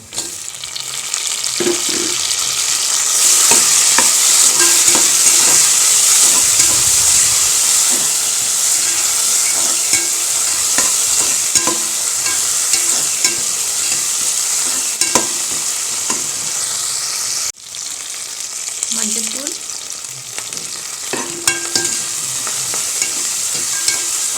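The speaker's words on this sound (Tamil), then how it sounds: "தக்காளி எல்லாம் வதங்கிருச்சு" Tomatoes sautéing in a pan for Tamil Nadu–style dhal rice, a steady loud sizzle with frequent stirring scrapes and clicks throughout, briefly dipping once before resuming.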